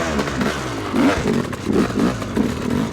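A trials motorcycle idling and revving in gear during a riding clinic, close and loud, with rhythmic throttle blips and a rough, pulsing exhaust note.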